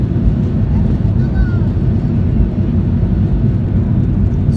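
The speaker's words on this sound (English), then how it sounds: "So we're taking off from snowy Gatwick Airport. So we're going really fast." Norwegian Boeing 737-8 jet engines at full takeoff power on a snowy runway at Gatwick: a loud, steady low roar with rushing rumble that holds constant throughout, heard from inside the cabin.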